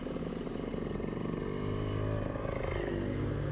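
A two-stroke motorbike rides along a wet, potholed forest track, its engine droning steadily with a rising pitch, fairly close and continuous throughout.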